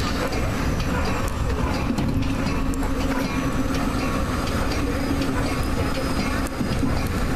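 A Metra BNSF commuter train runs at rush hour near Westmont, heard from inside the cab car as a loud steady rumble with rhythmic wheel clatter and faint squeals.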